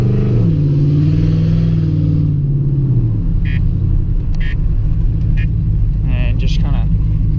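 A cammed Silverado with a high-stall converter rumbles loud and close, its engine note rising then settling into a choppy, lopey idle-like drone as it pulls away, with speech over the engine.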